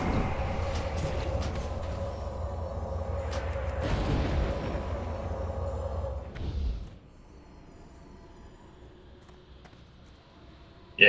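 Arcane explosions during a Naxxramas raid boss fight in a video game: dense, rumbling blasts pile up loudly for about seven seconds, then cut off abruptly to a quiet low hum.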